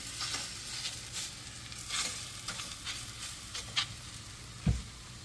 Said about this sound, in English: I'm removing my tortilla that is flat and put it in the pan.